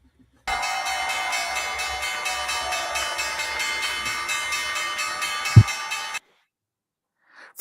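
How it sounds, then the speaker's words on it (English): The opening bell at the New York Stock Exchange rings as one loud, sustained, buzzing metallic peal lasting about six seconds, then stops abruptly. "First Lady Melania Trump ringing the opening bell at the New York Stock Exchange"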